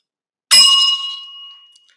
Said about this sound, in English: let's talk about this bell.